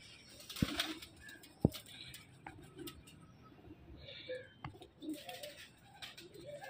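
Pigeons in a loft, a mix of soft cooing and a couple of sharp bursts of wing flapping, close and fairly quiet, with faint ambient rustling and occasional chirps.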